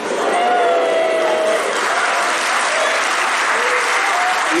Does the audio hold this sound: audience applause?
yes